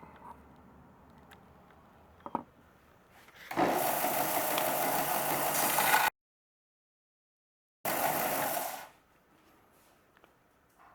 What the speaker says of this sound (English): I'm probably going to do that with the belt sander because I want to go nice and slow